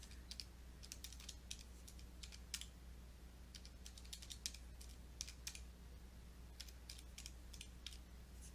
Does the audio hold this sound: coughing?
no